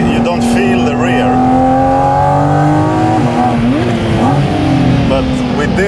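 Porsche GT4 RS engine revving hard toward 9,000 rpm on a race track, a loud continuous high-pitched wail with rising and dipping pitch through gear changes, heard from inside the cabin.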